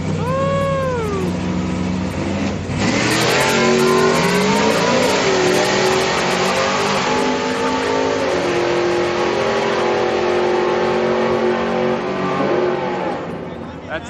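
Street car on a Friday night street-car event, engine revving hard on nitrous: a rising rev, then a loud sustained wide-open roar of about ten seconds with shifting pitch, with crowd chatter and cheering underneath.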